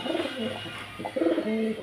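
Pigeons for sale at a bird market in Beldanga coo close by, giving several soft throaty calls in quick succession that overlap a little, with no speech.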